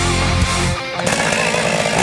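A chainsaw cuts wood outdoors, loud and close, its engine dropping briefly before revving up again into a steady rasping snarl.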